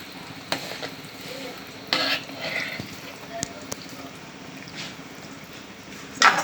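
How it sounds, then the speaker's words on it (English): A Nigerian chicken tomato stew frying in a pot and stirred now and then, giving a low steady sizzle with scattered scraping clinks of the spoon against the pot, close by. "Remember, I always stir it at intervals so that it will not get burnt."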